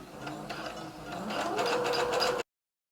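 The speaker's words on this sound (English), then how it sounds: "Go ahead and lower your needle, begin sewing and back stitch." A sewing machine runs a steady, close whirring stitch along a knit fabric hem for a maxi dress, speeding up slightly before stopping abruptly, with no talking.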